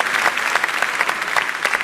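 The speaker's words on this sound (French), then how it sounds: "Merci de les applaudir" A live audience at a French radio broadcast from Le Havre applauds, a continuous wash of many hands clapping at moderate loudness with no talk over it.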